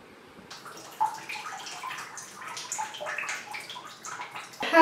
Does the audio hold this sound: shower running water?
yes